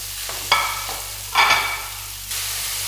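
Onions and green chilies tossed into a hot pan, a steady close sizzle broken by two sharp bursts of stirring and scraping, then the frying settles louder.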